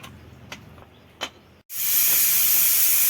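A pressure cooker of beans and collard greens on a mud stove lets out a sudden loud, sustained steam whistle after a few quiet taps and knocks.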